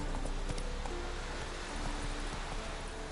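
Hoofbeats of the horse Roach in The Witcher 3: a steady clip-clop of hooves running throughout, blended with a constant wash of rain-like ambient noise.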